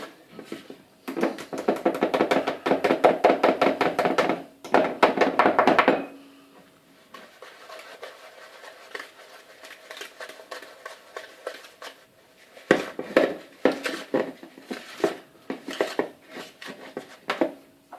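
Baba au rhum batter beaten in a bowl with a utensil, rapid rhythmic tapping and scraping in loud bursts, a pause, then more quick strokes.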